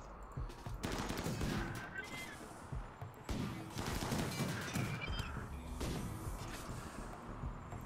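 Sustained bursts of gunfire in the video game RimWorld, rapid overlapping shots rolling on through the whole stretch at low level, with a voice talking over them.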